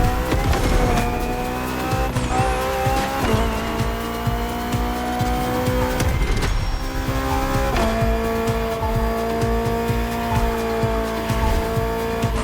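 BMW race cars on the starting grid in The Crew Motorfest game, engines roaring loudly with rising and falling revs and sharp tire squeals, several cars together and close, with no talk.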